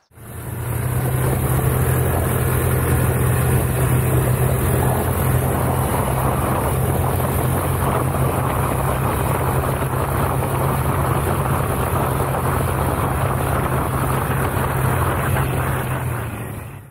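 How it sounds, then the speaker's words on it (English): A Sym Joymax Z+ 300 scooter cruising along a UK road, giving a steady engine hum under loud, continuous rushing wind noise that holds evenly throughout, with no speech. "So let's get these out on the road to see what they're really like."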